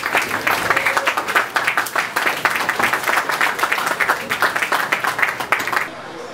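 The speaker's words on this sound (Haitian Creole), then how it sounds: "On applaudit Madame Mathurin." An audience applauds Madame Mathurin at a conference, steady dense clapping from many hands that continues evenly for several seconds before tapering at the end.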